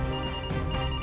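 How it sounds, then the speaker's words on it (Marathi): A telephone rings with a bright electronic trill, a short burst of repeating ring tones heard close and clear with no one speaking. "नक्की कोणाचा फोन आहे?"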